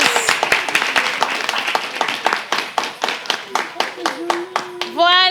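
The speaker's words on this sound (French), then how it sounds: "Applaudissez sa présence." A small group claps in steady rhythm, loud and close, and a voice calls out over the hands near the end.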